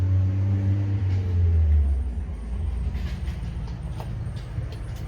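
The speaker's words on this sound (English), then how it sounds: "Noisy truck going past." A noisy truck rumbles past outdoors, its low engine drone loud and tonal at first and then fading into a broad, steady roar that continues to the end.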